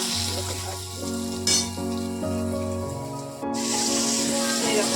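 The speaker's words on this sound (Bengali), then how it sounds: "এবার পটল আলু ভেজে নিলাম" Pointed gourd and potatoes frying in a pan give a steady broadband sizzle throughout, with a few scraping stir sounds and a low background hum, and no talking.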